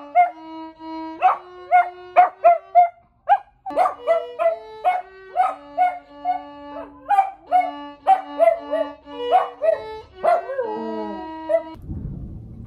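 A dog yips and howls in a string of rising, wavering cries, loud and close, keeping time with violin playing before breaking off at the end.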